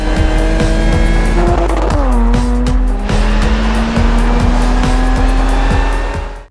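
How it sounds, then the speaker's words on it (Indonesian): A Mercedes-Benz SLS AMG GT Roadster pulls away in a film scene: a loud, close engine rises in pitch, then settles into a steady drone as the car accelerates, with brief tire squeal. "Casey yang udah capek mencuri sebuah mobil berjenis Mercedes-Benz SLS IMG GT Roadster dan segera pergi dari tempat itu"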